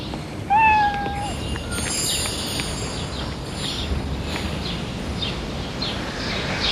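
A cat gives a single short, rising meow near the start of an audio drama scene, heard clearly over a steady outdoor hiss with faint chirps afterward.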